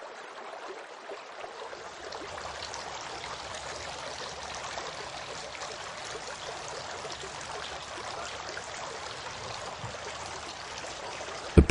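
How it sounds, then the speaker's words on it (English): Steady running water from a tap pours continuously while the beard is washed during ablution, loud and close with an even rushing hiss and no voices. "Washing the beard."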